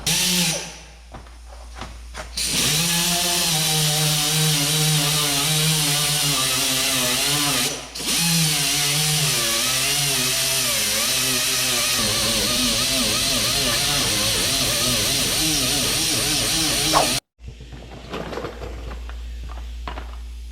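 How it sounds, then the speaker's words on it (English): Small handheld grinder cleaning out cracks in a plastic dually truck bedside, a loud continuous high whine that wavers in pitch as it bites, briefly dips once, then cuts off abruptly near the end. "So I'm going to take my small little grinder here, and we're just going to clean off all of our crack areas."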